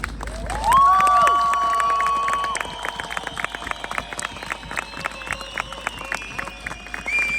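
A crowd at a protest rally for Rojava in Berlin claps loudly in a burst, then keeps up scattered clapping, with shrill whistles sounding over the top.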